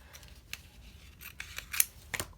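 Scissors cut Christmas scrapbook paper close up, with a handful of quiet, crisp snips spaced unevenly and growing a little louder toward the end.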